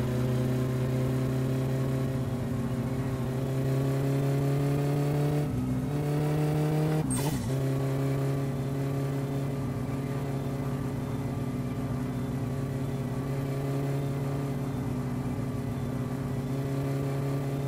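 A modded VW Gol in My Summer Car drones at a steady engine hum with a strong low tone that holds for the whole stretch, broken by brief rev changes near the middle.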